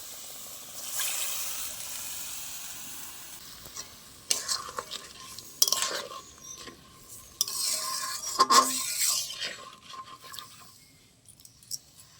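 Water poured into a cooking pan of spice paste for a chal potol rice dish, with stirring, sizzling and utensil clatter heard alone in bursts over a soft steady hiss.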